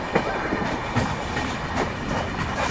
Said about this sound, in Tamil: நம்ம இந்த ட்ரெயின் போடி வரைக்கும் போகிறது,